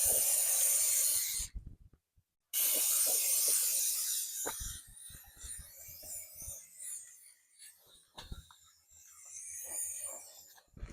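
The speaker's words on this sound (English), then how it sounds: "I need to pull this back and spray fluid film all along the frame." Hissing aerosol spray of Fluid Film rust coating onto a 5th-generation Toyota 4Runner's frame, in long bursts, up close and loud, with a short pause between, then quieter clicks and handling noises.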